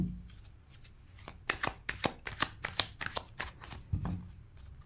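Tarot cards being shuffled close by, a brisk run of crisp riffling slaps and flicks in quick irregular rhythm, loudest in the middle, with no voice over it.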